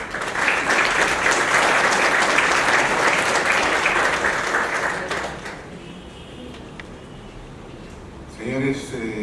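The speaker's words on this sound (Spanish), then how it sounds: "Los aplausos para ellos." Audience applause for guests at a presentation on cost strategies, sustained full clapping for about five seconds before dropping away, followed by a brief voice at the end.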